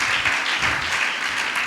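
A church congregation claps in praise, loud dense applause from many hands, continuous and close, with no pauses.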